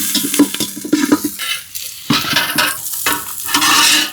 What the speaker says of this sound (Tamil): வெட்டின வெங்காயம் பச்சை மிளகாயம் வந்து போட்டு அதுக்குள்ளே வந்து வதக்குறேன்